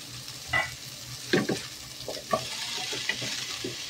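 Shredded cabbage goes into a hot frying pan for ginisang repolyo and sizzles steadily while a spatula scrapes and stirs it in several close, distinct strokes, with no voices heard.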